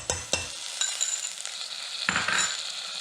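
Garlic hitting a pot of cooked vegetables for a chicken and vegetable stew, giving a soft steady sizzle with a few stirring scrapes and clinks near the start and another stir near the end.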